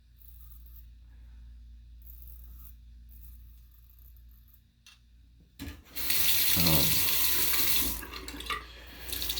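Tap water gushing into a bathroom sink before a shave, starting suddenly after a quiet stretch and running loud and close, hissing steadily to the end.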